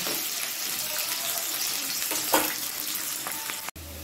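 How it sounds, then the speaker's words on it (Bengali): Diced potatoes frying in a pan after the spices have been tempered, for a Bengali mochar kofta dish. A continuous close hiss of oil runs without talking and breaks off abruptly near the end. "আলুটা একটু ভালো করে ভেজে নেব"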